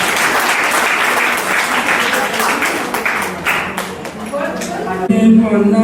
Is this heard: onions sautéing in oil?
no